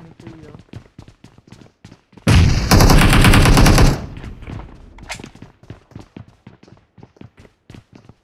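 PUBG video game gunfire: a dense, loud burst of rapid automatic fire lasting under two seconds, preceded and followed by sharp thumps and footsteps, with a player talking around it.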